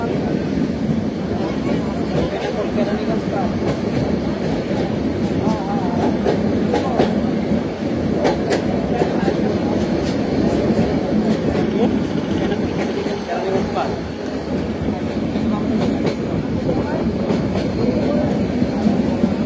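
On board the Mahanagar Godhuli Express passing through Tongi Junction at night, a steady loud rumble of the carriage fills the space, with repeated clickety-clack of wheels over rail joints running throughout.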